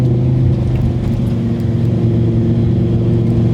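A 2020 Lamborghini Huracan Evo, all-wheel drive, corners on a closed circuit with a loud, steady engine drone and a deep rumbling note held close throughout.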